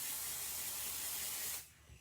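Pixie spray hisses out of a spray can in one close, steady burst lasting about a second and a half before cutting off abruptly.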